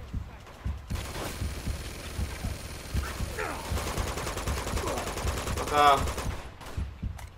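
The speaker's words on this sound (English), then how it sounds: "This motherfucker is still shooting at me" Rapid automatic gunfire from a firefight in the video game Uncharted 2: Among Thieves, steady bursts of shots running throughout with louder volleys near the end, under a voice talking and cursing.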